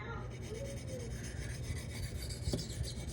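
Knife blade rubbed steadily on a 1000 grit King water stone, a continuous wet rasping scrape with rhythmic back-and-forth strokes, close and fairly quiet.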